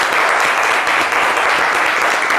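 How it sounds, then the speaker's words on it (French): A live studio audience claps loudly and steadily to welcome a young volunteer onto a TV show stage, dense close applause throughout. "On l'applaudit."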